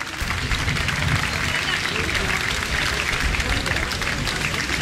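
A festival crowd at a romería in El Carrizal claps and cheers loudly and steadily for a folk dance group, a dense wash of applause with no pause.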